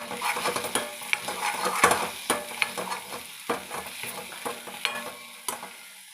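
Bheja fry, a non-veg brain dish, sizzles in a pan while a spoon stirs and scrapes it, giving irregular sharp clinks over a constant close frying hiss.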